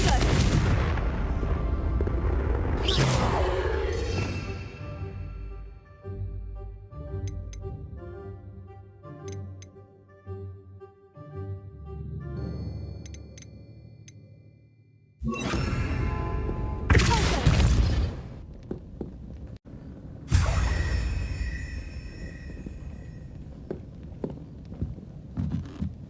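Confringo spell explosions in the video game Hogwarts Legacy: several loud booming blasts with crackling debris, separated by quieter ticking stretches, plus occasional voices.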